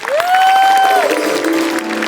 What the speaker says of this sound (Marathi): एकदा जोरदार टाळ्या झाला पाहिजेत